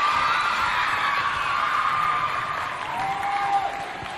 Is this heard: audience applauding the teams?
yes